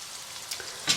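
Mushrooms frying in olive oil give a steady, soft sizzle with a couple of brief louder crackles near the end, close by and without talk.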